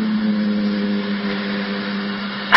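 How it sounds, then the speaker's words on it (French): A cooling fan in an electronic device whirs steadily and close by, with a constant low hum running under a broad airy rush and no talking. "quand tu t'approches avec ton micro, j'entends bien la ventilation"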